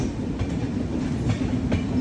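Steady rumble and rhythmic clickety-clack of the Dibrugarh Rajdhani Express running on the rails, heard from inside a 2nd AC coach, continuous and fairly loud with no voices.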